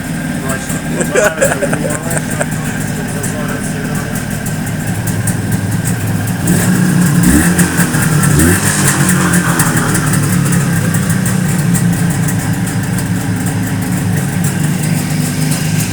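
A Jawa 638 motorcycle with freshly adjusted valves idling steadily and loudly up close, its even engine beat continuous throughout, with a slight rise partway through and someone talking over it.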